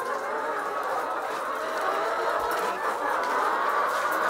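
Chickens on a chicken farm, a dense constant chorus of clucking from many birds, near and steady without pauses.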